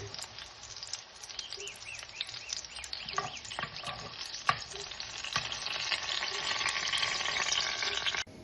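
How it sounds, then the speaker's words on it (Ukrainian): Zucchini slices fry in hot oil in a pan for a zucchini-in-batter dish, giving a steady close sizzle and crackle that grows denser toward the end, with faint clicks of turning and no talk. "Далі викладаємо кабачки і обсмажуємо їх з обох сторін до золотистого кольору."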